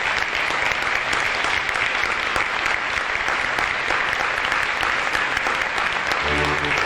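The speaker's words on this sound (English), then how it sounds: "Please join me in applauding the members and inductees" An audience at a high school National Honor Society induction ceremony applauds members and inductees, with dense, sustained clapping filling the room throughout.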